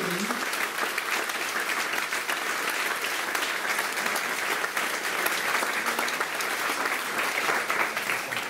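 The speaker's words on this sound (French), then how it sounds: "Je voudrais qu'on applaudisse fortement notre auditeur de ce soir." An audience at the close of a French evening conference on Europe claps loudly for the speaker, with continuous, thick applause from many hands filling the room from start to finish.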